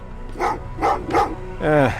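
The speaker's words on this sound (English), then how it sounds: "Oh, what's with the dogs?" Several short barks in quick succession followed by a whining yelp from dogs in the video game Terminator Resistance, close and clear against a quiet background.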